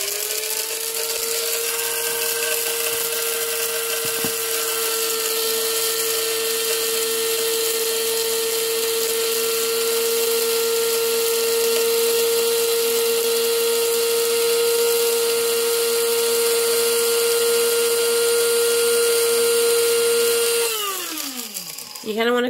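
Electric coffee grinder grinding beans for espresso, a steady high whirring motor hum held for about twenty seconds before winding down as it switches off near the end.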